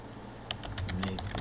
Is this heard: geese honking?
no